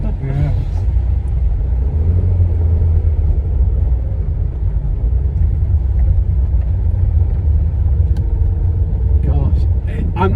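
An Austin Allegro is driven along a bumpy road, heard from inside the cabin as a loud, steady low rumble of engine and road noise, with people talking over it.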